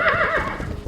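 A horse whinnies loudly and close by in a short, descending neigh, with faint hoof clatter and shuffling afterward.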